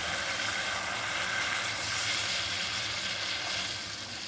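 Water poured into a pan of frying spices for an old-style fish curry, producing a steady, dense hiss and sizzle that holds evenly throughout, close and moderately loud, easing slightly at the end.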